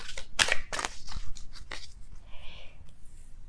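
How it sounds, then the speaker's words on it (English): Tarot cards are shuffled by hand in a few quick riffling, snapping bursts followed by softer rustling, close and fairly clear with no voices. "I'm going to be shuffling until I have a popping card here."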